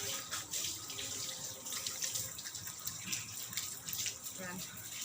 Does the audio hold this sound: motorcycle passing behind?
no